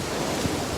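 Ocean waves wash against a windy South Florida beach, heard as a brief, loud, steady roar of surf mixed with wind buffeting the microphone.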